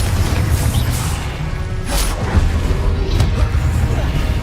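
Confringo fire-blast spell exploding in Hogwarts Legacy, a loud booming burst followed by a sharper crack a second later, over rumbling game background and some voice.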